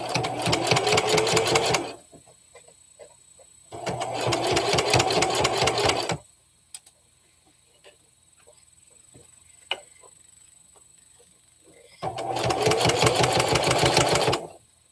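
A sewing machine stitching quilting fabric in fast, even bursts, three loud runs of rapid mechanical stitching separated by quiet pauses with small clicks and handling noises.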